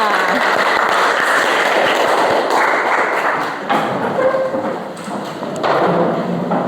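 A group of students in a classroom claps hands together in a dense, steady burst of applause that carries on for several seconds, with brief dips in the middle.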